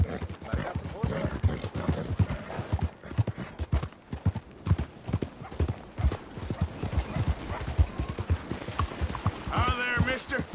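Horse hooves clip-clopping at a steady walk in Red Dead Redemption 2, with people talking over them throughout and a brief whinny near the end.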